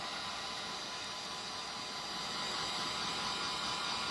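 A heat gun blows hot air in a steady, broadband hiss, close and unbroken, while a beach-themed cup is being worked on, with no voices.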